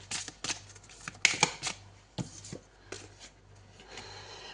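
Oracle cards are shuffled and drawn in quick, soft papery riffles and slides, close and fairly quiet, with brief flicks and rubs in an uneven rhythm and no talking.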